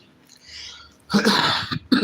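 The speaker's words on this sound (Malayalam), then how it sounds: "സോറി യെസ് ചുമ വന്നു" A single close, sharp cough bursts out after a faint breath, followed by a short second cough.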